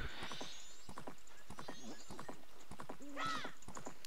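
Hooves clip-clop in a quick, uneven rhythm from a horse in the Majora's Mask video game, a series of close, sharp hoofbeats, with a brief whinny-like cry near the end.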